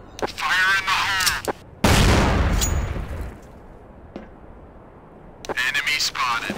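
A grenade detonates in the video game Counter-Strike: Source as a single loud, close blast with a decaying rumble, set between short radio-style voice lines.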